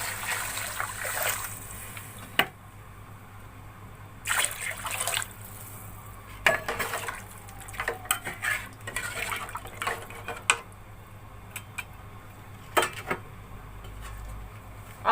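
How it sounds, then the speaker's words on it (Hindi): Water poured from glasses into a pot of mutton paye with fried spices, coming as several separate splashing, trickling pours with short pauses between them, close and moderately loud. "अब इसमें 5 गिलास पानी शामिल करूंगी।"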